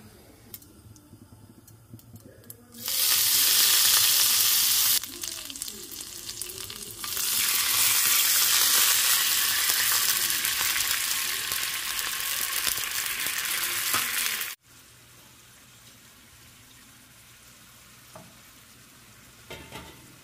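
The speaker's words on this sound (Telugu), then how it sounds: "ఇది డోక్లాకి తాలింపు పెట్టేశాను" Loud hissing sizzle as tempering for dhokla hits hot oil, starting abruptly, pausing briefly, then continuing before cutting off to quieter room noise.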